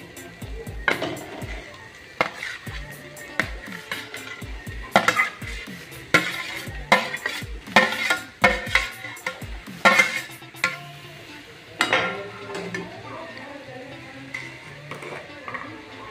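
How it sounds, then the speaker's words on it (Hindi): Metal utensils clatter and scrape against a pan in repeated sharp knocks, with a faint sizzle underneath, as boiled potatoes fry in oil and are stirred and turned. "अब उसमें हम उबले हुए आलू डालेंगे."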